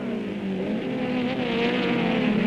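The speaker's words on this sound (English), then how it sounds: "It's an Indy-style rolling start following the pace car because of the large field." Several 1968 saloon racing cars, among them a Porsche and a Ford Mustang, rumble together in a dense, continuous engine roar during a rolling start behind a pace car, with the engines steadily building in volume.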